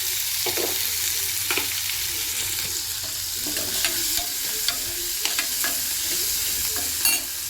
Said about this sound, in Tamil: கொஞ்சம் எண்ணெய் ஊற்றிக்கிறேன்